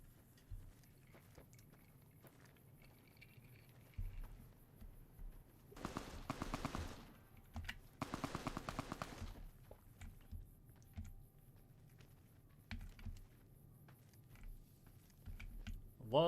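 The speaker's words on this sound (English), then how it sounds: "Love hearing machine gun fire I can't trace." Distant machine gun fire in Fallout: New Vegas at Zion National Park comes in two rattling bursts of a second or so each, faint against a quiet game ambience with scattered soft clicks.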